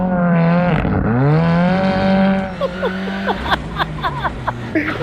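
Ken Block's Ford Escort Cosworth rally car engine revving hard and climbing through gears up close, a loud rising whine that drops into choppy, popping bursts.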